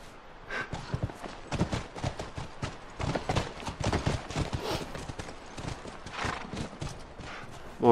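Rapid hoofbeats clatter in a quick, uneven rhythm, with horses whinnying among them, fairly close, in the video game The Last of Us.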